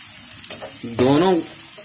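Ginger, garlic and onion fry in a pan with a steady, bright sizzle throughout, briefly overlaid by a short, tonal voiced sound in the middle.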